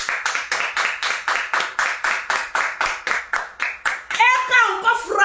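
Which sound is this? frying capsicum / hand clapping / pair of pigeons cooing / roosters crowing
hand clapping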